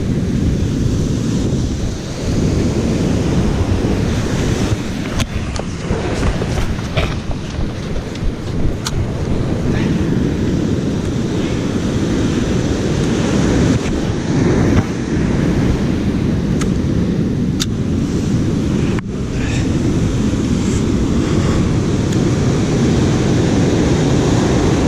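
Strong wind and ocean surf at Mori Point on a windy late-spring coast: steady roaring gusts buffet the microphone over the constant wash of breaking waves, with a few sharp crackles and no speech.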